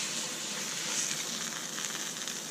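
A steak sizzles in a hot cast iron pan, a steady, fairly quiet crackling hiss that runs without a break and is heard alone, with no talking.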